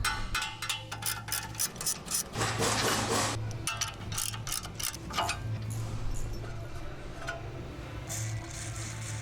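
Ratchet wrench loosening bolts on a car's front suspension, caliper and caliper bracket during an adjustable spring sleeve install, heard as repeated close clicking bursts over a low steady hum.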